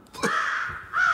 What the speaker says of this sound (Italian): Il corvo!